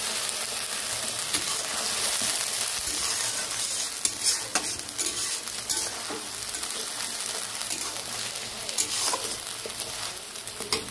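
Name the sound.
vegetables being stirred and frying in a pan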